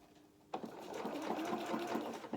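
A sewing machine runs steadily after a quiet start, stitching two parallel rows of seams on a small rabbit doll's playsuit, with a continuous close mechanical whir and no talking.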